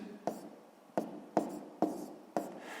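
A pen writes a math equation on paper with five short scratching strokes spaced at even intervals, close and quiet, with no talking.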